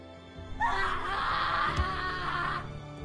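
A man in the Japanese film Rurouni Kenshin: The Legend Ends screams hysterically: one sustained, strained cry of about two seconds, loud and close, with a short thud partway through.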